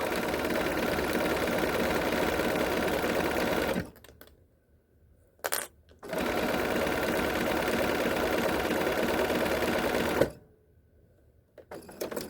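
A sewing machine stitches a crossbody bag in fast, steady whirring bursts, running for several seconds, pausing, giving a short spurt, then running on again before stopping and restarting.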